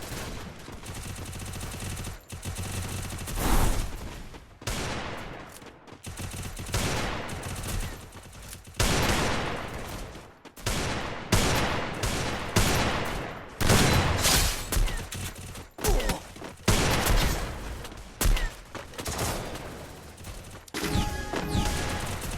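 Desert Eagle gunfire in a shooting video game, a rapid string of loud, punchy shots with brief gaps, close and dominant throughout.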